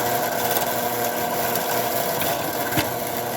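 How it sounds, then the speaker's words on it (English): A power drill whirs continuously at close range, boring a hole in PVC pipe, a steady grinding hum that holds for the whole few seconds, with no speech. "Next, we'll drill the first fingering,"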